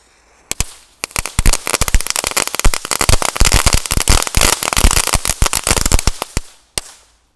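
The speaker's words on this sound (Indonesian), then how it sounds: "Selanjutnya ini ada mercon pretekan atau mercon telur dino ya. Kita nyalakan satu pak sekaligus." A whole pack of Indonesian 'dino egg' firecrackers lit at once: a long, dense string of bangs in rapid, irregular succession for several seconds, loud and close, then tapering to a few last pops.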